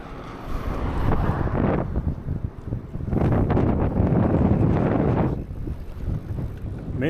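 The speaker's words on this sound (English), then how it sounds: "that was a big gust of wind" Heavy wind roars and buffets against the microphone in two long surges, with a brief lull between them, during an e-bike ride, dirt blowing in the air.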